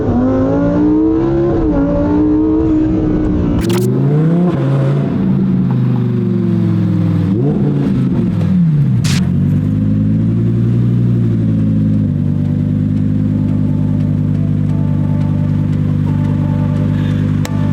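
A 2018 Lamborghini Huracan Performante engine revs hard and loud, its pitch climbing and falling through several throttle blips before settling into a steady, close-up idle growl.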